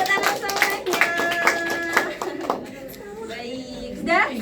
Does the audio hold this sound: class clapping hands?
yes